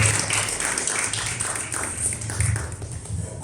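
Applause for a museum coordinator at a folklore lecture, a soft, steady patter of clapping hands from a modest audience, continuous and fairly even.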